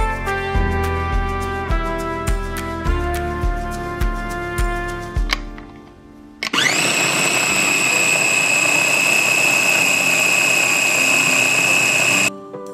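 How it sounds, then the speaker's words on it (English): Blender whirring loudly and steadily for about six seconds while mixing mayonnaise with peppermint oil, after a stretch of piano music, then cutting off abruptly. "I really wish I had a better blender so that way I could get a more pureed smooth texture"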